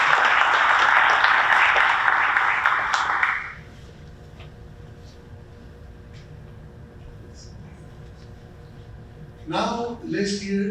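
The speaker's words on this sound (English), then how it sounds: "Let's give our own community a big round of applause" Audience applause at a school district facilities and bond measure advisory committee meeting, a loud sustained burst of clapping for about three seconds that cuts off abruptly, followed by quiet room tone and a brief bright chime near the end.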